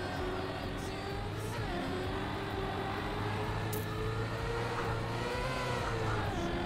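A race car engine in Trackmania, driven on a dirt track, drones steadily throughout with its pitch dipping and climbing through repeated downshifts, loud and continuous with no speech.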